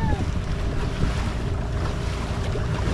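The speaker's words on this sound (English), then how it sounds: "Look at the waves." Ocean waves wash along the coast at Mombasa, Kenya, a steady, broad roar of surf mixed with strong wind buffeting the microphone, continuous and loud from start to finish.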